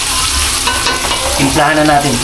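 Vegetables for bihon guisado sizzle loudly and steadily in a pan as they are sautéed close by. A voice speaks briefly over the frying.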